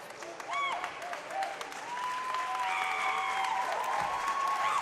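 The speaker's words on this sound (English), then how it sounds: "And a big round of applause." Applause and crowd noise echo through a swim meet natatorium, a steady wash of clapping with whistle-like tones and voices mixed in.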